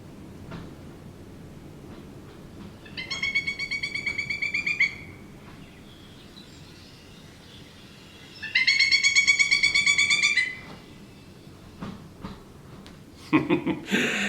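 Two loud, rapid series of high piping calls from a pileated woodpecker, each lasting about two seconds, separated by quiet; the bird calling fairly close.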